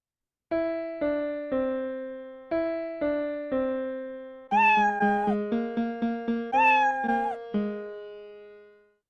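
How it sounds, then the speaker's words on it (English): Cat meow samples played as notes in a Hyperscore composition, a rhythmic run of repeated meows at shifting pitches, loud and clear, with later phrases pitched higher before a final fading meow. "that's going to allow us to meow over music"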